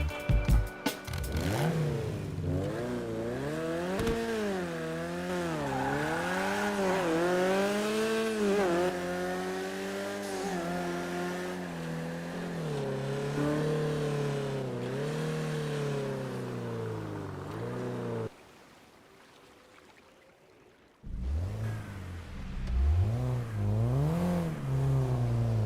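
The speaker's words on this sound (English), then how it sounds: "The Panto sounds soft, and the Issi still being a soft sound but a little bit more spicy." Two small GTA cars, the Benefactor Panto and the Weeny Issi, rev their engines, rising and falling in long surging pitch sweeps close up. A brief quiet gap comes before revving resumes.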